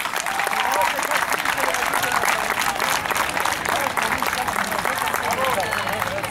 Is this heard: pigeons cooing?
no